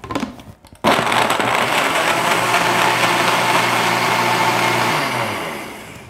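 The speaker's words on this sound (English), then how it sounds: "Just pop that on your base, give it a good whirl." Blender mixing a smoothie with orange juice and tofu starts abruptly after a short rattle, then runs as a loud, steady grinding whir before winding down.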